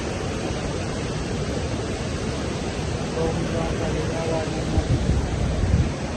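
A continuous broadband rush of a flowing river, steady and fairly loud, with a faint voice briefly audible beneath it.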